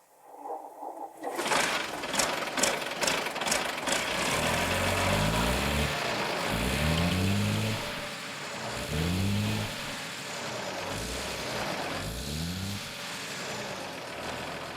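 A Mercedes MB trac farm tractor engine cranks with sharp rapid bursts, then catches and settles into a loud, steady diesel running with rhythmic low chugging swells.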